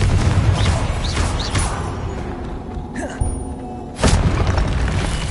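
Confringo explosion spell in Hogwarts Legacy, a deep booming blast with crashing debris, followed by rumbling aftershocks and another heavy boom near the end, loud over a busy game soundscape.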